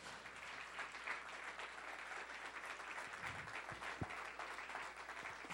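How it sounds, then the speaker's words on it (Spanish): A church conference congregation gives sustained applause, a faint, distant wash of clapping that holds steady with a few louder thumps near the end. "Denle un aplauso al Señor"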